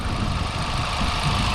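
A 2024 Volkswagen Golf GTI with no engine cover idles cold, giving a steady, fairly loud mechanical hum with a slightly rough, busy texture and no voices over it.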